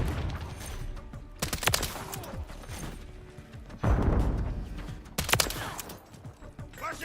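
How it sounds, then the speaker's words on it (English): In a video game, loud gunfire crackles in rapid bursts around a booming stun grenade blast. The mix is dense and close, with continuous action noise throughout. "a stun grenade!"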